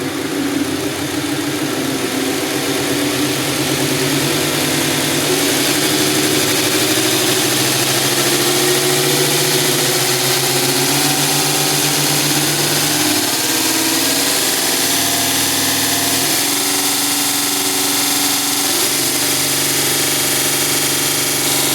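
A Grizzly 2 x 42 belt knife grinder motor runs at a steady hum with a mechanical whine, its pitch shifting upward partway through as the speed increases toward 3,800 RPM.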